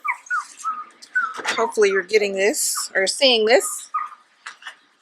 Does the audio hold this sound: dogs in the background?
yes